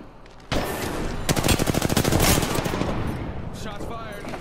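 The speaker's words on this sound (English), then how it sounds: "Shots fired. They're hitting me." Rapid automatic gunfire in a video game, dense bursts of shots loud and close, with a sustained rattling volley and fading echo afterward.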